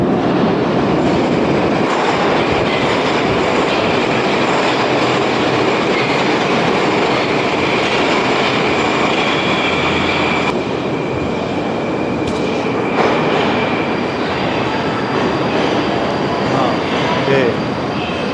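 A Moscow metro train in Russia rumbles loudly and continuously, wheels clattering and roaring on the track, with a brief shift in tone partway through.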